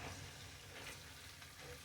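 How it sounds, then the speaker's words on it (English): Okra frying in a pan gives a steady, close sizzle with crackling hiss, continuous and unbroken for a couple of seconds, with no voices over it. "Oh, that's frying."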